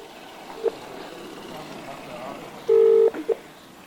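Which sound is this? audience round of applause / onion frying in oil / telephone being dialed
telephone being dialed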